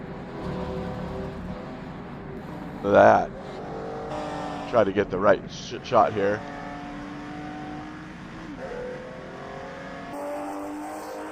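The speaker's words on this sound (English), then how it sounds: "Very nice sounding car. Yeah, I want to hear that engine." A Ferrari GTO race car engine drones and revs nearby at Circuit Paul Ricard, rising and falling through gear changes, while someone talks briefly over it.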